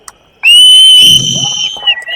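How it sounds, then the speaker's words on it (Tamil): At a political rally, supporters blow a loud, shrill whistle in one sustained blast lasting over a second, close and piercing, with crowd noise rumbling underneath and a softer trailing tone at the end. "உங்களுடைய தொகுதியிலிருந்து எங்களின் விசில் சத்தம் விண்ணை பிளக்கின்றவரை இதோ நாங்கள் ஊதுகிறோம்"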